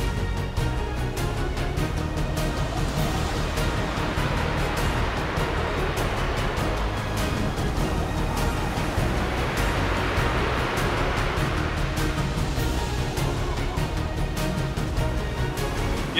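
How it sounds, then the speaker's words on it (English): Heavy ocean surf pounds without pause, a loud, continuous roar of breaking waves with wind buffeting the microphone and no voices. "Even Captain Jack Sparrow wouldn't dare these waves"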